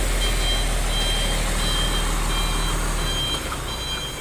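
A heavily loaded cement trailer truck reverses, its backup alarm sounding steady repeated beeps over a loud, constant diesel engine rumble, with no talking.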